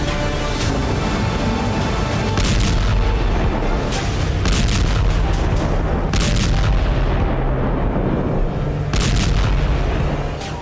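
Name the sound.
explosions from Ukrainian shelling of Russia's Black Sea fleet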